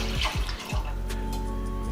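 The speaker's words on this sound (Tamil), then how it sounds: "இப்போ இதை ஒரு பாத்திரத்தில் நம்ம இதை போட்டுட்டு இதில் கொஞ்சம் தண்ணி ஊற்றிடலாம்" Water is poured into roasted lentils in a cooking vessel, making a brief close splash and trickle with a few gurgling drops before it settles into faint, steady running water.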